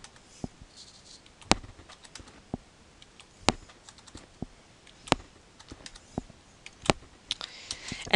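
Keystrokes on a computer keyboard as data points are entered into statistics software, heard as sparse, irregular clicks with a few sharper taps, close and fairly quiet, with no talking.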